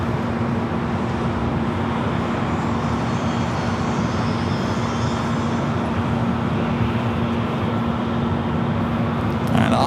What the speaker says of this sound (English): Now rolling down that 24 left